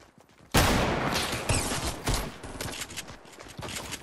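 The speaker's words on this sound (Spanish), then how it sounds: "¿Te están disparando a ti, no?" Sustained gunfire in the Fortnite video game, a dense loud fusillade of rapid shots starting abruptly and continuing with bursts of varying intensity, close and overwhelming, with no talk over it.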